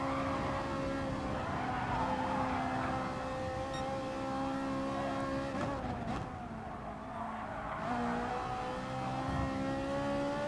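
A race car in a racing video game drives continuously at speed, engine whining steadily with shifting pitch and brief tire squeal, heard alone without talk.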